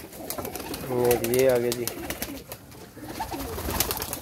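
Lakha pigeons cooing nearby in a loft, a throaty rolling coo rising clearly in the middle, with other birds around and someone talking briefly over them.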